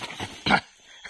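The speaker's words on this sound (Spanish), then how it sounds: "mi perra preciosa" A dog making three short whimpering yips in quick succession, the last one loudest, followed by quiet, heard close by with no talking.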